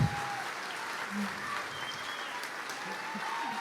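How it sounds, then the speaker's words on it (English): Town hall audience applauding steadily throughout, a broad wash of clapping with scattered voices mixed underneath. "let's give a big round of applause for Elizabeth Ross and Beth Liston"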